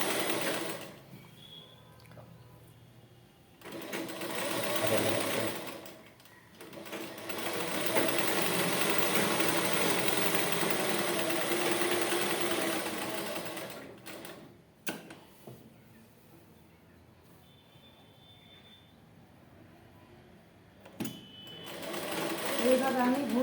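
Sewing machine stitching a seam on a ladies' dress, running in long steady bursts with pauses where the fabric is turned, close and fairly loud, with brief quiet gaps between runs.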